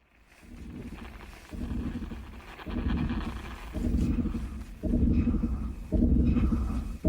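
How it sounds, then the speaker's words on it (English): Tense theatrical trailer for the 1997 film Contact: deep, dramatic swells surge and break off in a regular beat, building in loudness through the passage. "This is the tense theatrical trailer for the 1997 film Contact."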